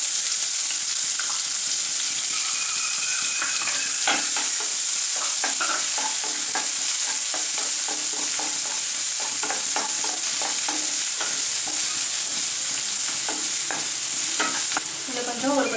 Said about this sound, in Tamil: வெங்காயம் நல்லா கோல்டன் ப்ரௌன் வர வரைக்கும் நல்லா வதக்கிக்கோங்க.